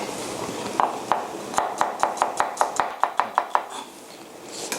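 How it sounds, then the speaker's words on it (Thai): A knife slices through shallots and garlic on a cutting board in a steady run of about a dozen crisp, evenly spaced chops, close and clear with no talking. "เราจะมา ซอยหอมแดง แล้วก็กระเทียมกันฮะ"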